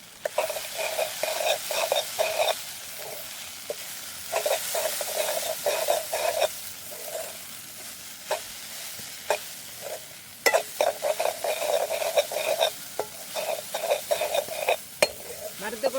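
Okra is stir-fried in a pan with grated coconut, giving a steady sizzle broken by repeated scraping stirs and spatula clicks, close and fairly loud, with no talking.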